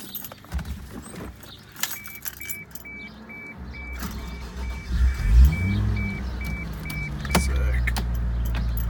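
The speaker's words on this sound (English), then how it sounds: "we're gonna go ahead and take this car out for a drive" Inside a Toyota Supra, keys jangle, a power window hums and a door chime beeps steadily. Then the engine fires up and revs, its pitch rising and falling, close and fairly loud.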